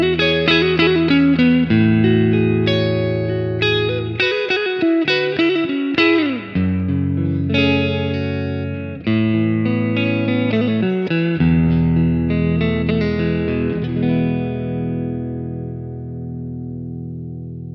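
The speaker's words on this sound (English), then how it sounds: "let's listen to some examples of the different tones of the DV Mark EVO 1" Electric guitar played through a DV Mark EVO 1 amplifier, running through a series of distorted and chorus-tinged tones with sustained chords and bent notes that ring out and fade at the end, loud and alone.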